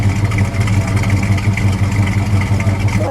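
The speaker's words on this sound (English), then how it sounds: "Let me just listen to that idle for just a second." A 1973 Chevrolet Camaro Z28 with a four-speed, its V8 idling close by, a loud steady throaty rumble with an even pulsing lope and no revving throughout.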